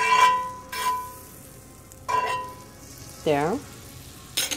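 A flan chimichanga fries seam side down in butter in a pan as a faint sizzle runs underneath, broken by several short tonal bursts and a brief spoken word.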